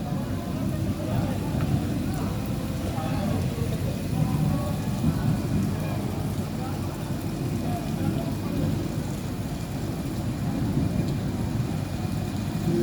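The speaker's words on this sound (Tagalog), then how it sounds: "lumakas na naman ang ulan" Heavy rain pours steadily during a flood in Dubai in the evening, a dense, loud, unbroken hiss and roar with low rumbling underneath, while people talk faintly beneath it.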